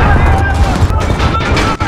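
A loud, close explosive blast in the shooter game Call of Duty: Modern Warfare, a dense roaring burst with rumble and debris that fills the whole short moment.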